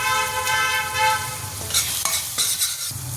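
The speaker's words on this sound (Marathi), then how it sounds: "हळद, पावभाजी मसाला, लाल तिखट आणि किचन किंग मसाला हे टाकून परतून घेऊया" Turmeric, pav bhaji masala, red chili powder and kitchen king masala sautéed in a pan for bread chivda, with close stirring scrapes and sizzle rising after a brief steady tone at the start.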